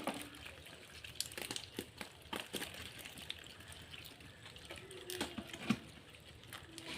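Tap water running from an opened pipe, a quiet, uneven gush and splash with scattered louder spurts and drips, fairly close, with no talking.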